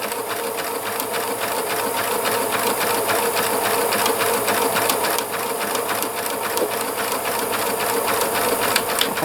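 A Pfaff Classic Style sewing machine stitching a buttonhole with its buttonhole foot, a steady fast mechanical whir with even rapid ticking of the needle, running close and continuously.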